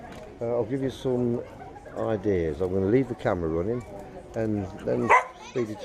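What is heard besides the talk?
dog barking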